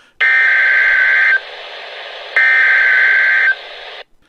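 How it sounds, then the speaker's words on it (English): A loud, steady electronic alarm tone from an old NOAA severe weather radio blares in two long bursts, each lasting about a second, with a quieter hum between them. "the loud alarm coming from Perry White's old NOAA severe weather radio"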